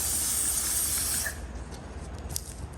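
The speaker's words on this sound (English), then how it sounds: "So we're going to use dry lube to kind of clean and lubricate everything." Dry lube sprays onto the motor of a 75-year-old Skilsaw Model 87 during restoration, a loud close hiss lasting just over a second before cutting off to a quieter background with faint clicks.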